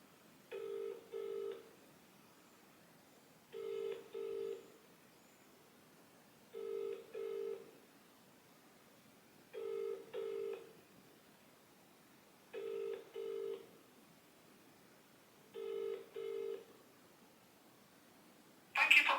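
A telephone call rings out through the line, six evenly spaced double-burst rings about three seconds apart, moderately loud and steady, ending just as the line clicks open.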